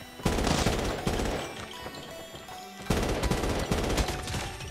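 Assault rifle fire in Call of Duty Mobile cracks out in two loud, rapid automatic bursts split by a short pause, close up and dense, with no voices over it.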